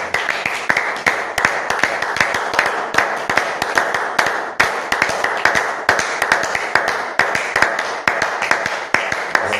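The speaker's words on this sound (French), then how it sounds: "Applaudissons pour le Seigneur Jésus." A church congregation claps together in a fast, steady rhythm, sharp hand claps repeating evenly throughout over a warm background of voices or music.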